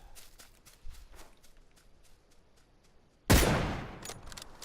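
Gunfire in the battle-royale video game PUBG: faint footstep-like taps and distant pops lead to one sudden loud close shot near the end, followed by a decaying echo and a few more scattered cracks.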